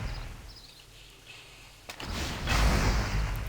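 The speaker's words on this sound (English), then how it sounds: "You have to just throw the bombs and watch things explode, basically." Bombs detonating in the online fantasy game TERA Online, a low rumbling boom swelling up after a quieter stretch, with a sharp crack before the heavier blast.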